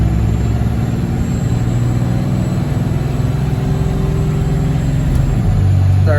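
Cummins diesel in a Ford F-350 pulling a trailer of cattle and hay, a loud constant engine drone with road and cab rumble, steady throughout with a slight pitch shift near the end.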